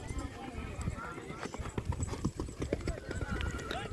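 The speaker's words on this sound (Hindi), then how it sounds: "तो दोस्तों सभी घोड़े अभी इकट्ठे हो रहे हैं।" Hooves clip-clop steadily as horses gather before a young two-tooth horse race in Kutch, close and busy, with voices talking over the hoofbeats.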